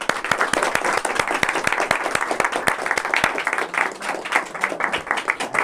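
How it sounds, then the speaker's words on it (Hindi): Audience applause at a Class 10 students' farewell ceremony at a coaching centre, a steady run of loud, dense hand clapping with sharp individual claps standing out, sustained throughout with no talk over it. "आप लोग जोरदार ताली से सम्मानित"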